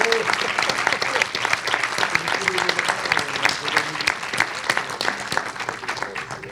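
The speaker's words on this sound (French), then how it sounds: "on peut applaudir" Steady applause from an audience at a regional rally awards ceremony, dense clapping sustained throughout with a faint voice or two underneath.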